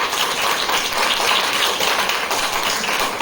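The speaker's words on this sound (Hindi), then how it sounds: "इनके लिए जोरदार शानदार तालियां।" A seminar audience breaks into loud, continuous applause, a dense wash of many hands clapping at once that stays steady and close throughout.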